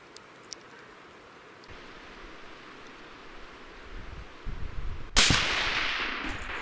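A single loud rifle shot from a Tikka T3x Lite in .308 fired outdoors: a sharp, close blast cracks out near the end, then a long noisy decay, after quiet wind and rustling.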